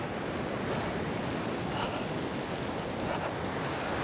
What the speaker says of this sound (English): And the wind's dropping a bit.